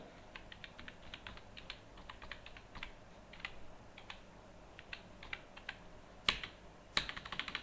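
Quiet, close keystrokes on a computer keyboard as a GST number is entered, irregular clicking bursts with a couple of louder taps near the end, no talking.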